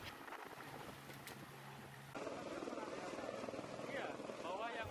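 Helicopter at a landing site in Ngawi, East Java, with many residents crowded around, its rotor and engine roar a steady broadband rumble that grows louder midway, with a voice speaking over it.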